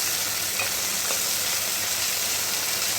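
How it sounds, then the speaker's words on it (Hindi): Carrots frying in a pan with garlic that has already browned, producing a steady, close sizzle with a constant hiss and faint crackles throughout, with no voices. "अब हम इसमें गाजर शामिल कर रहे हैं। गाजर डाल के कुछ देर पका लेंगे।"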